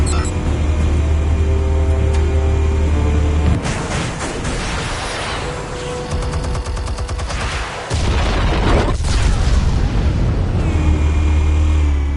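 Explosives detonate in Batman: The Telltale Series amid a sustained low drone and scattered crackling bursts, with a broad, heavy blast landing late in the sequence.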